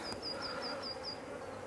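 Honey bees buzz around a nuc frame, a steady close hum with a few brief higher whines drifting past.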